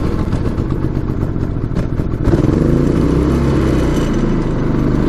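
Predator 3500 watt inverter generator running with eco mode off, a steady close engine drone with mechanical clatter that shifts to a slightly rougher, fuller tone midway and holds steady, with no voices over it.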